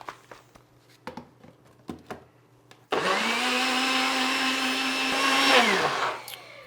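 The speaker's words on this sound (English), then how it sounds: "I'm just going to blend this up until there are no bits of banana remaining." A countertop blender whirs steadily for a few seconds, loud and close, pureeing banana with apple cider vinegar into muffin batter, after a few soft knocks and taps beforehand.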